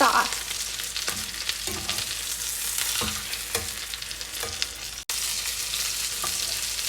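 Chicken fried steaks sizzle and crackle steadily in a hot frying pan, a dense continuous hiss with small pops and a brief utensil scrape near the start, close and fairly loud with no talking.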